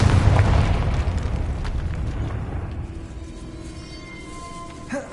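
A Confringo spell explosion in Hogwarts Legacy bursts loudly at the start, then its rumbling boom slowly fades over several seconds, with a small pop near the end.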